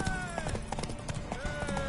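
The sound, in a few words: horse galloping hooves in The Witcher 3 video game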